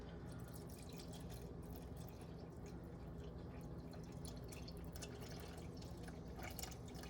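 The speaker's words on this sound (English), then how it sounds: "So I'm gonna add my warm water now" Warm water, 600 grams, poured steadily into a sourdough mixture, a continuous soft trickling and splashing held close and alone at low level for several seconds.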